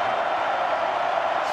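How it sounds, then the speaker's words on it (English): Broad, steady roar from a college football stadium crowd at a wet Virginia Cavaliers vs NC State Wolfpack game, a continuous wash of noise with no clear peaks, close and fairly loud. "the crowd is into it. Making a lot of noise"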